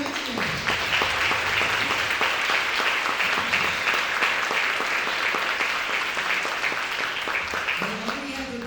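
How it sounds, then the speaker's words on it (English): An audience at a jazz evening applauds student scholarship winners, a full, even burst of many hands clapping for several seconds, with a voice briefly heard at its close. "let's give them a big round of applause"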